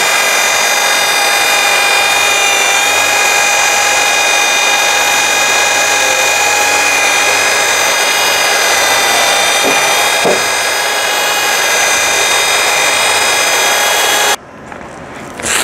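A machine polisher with a 320 grit pad sands a DeLorean DMC-12's stainless body, giving a steady high-pitched whirring whine that runs loud and constant, then cuts off near the end.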